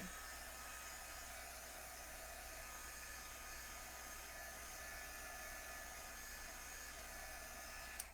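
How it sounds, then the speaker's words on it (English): A blow dryer drying ink on a craft inlay project blows as a steady, close, broadband rushing hiss that holds level for the whole stretch before cutting off abruptly. "I'm going to give it a little blow dry to make sure everything's dry"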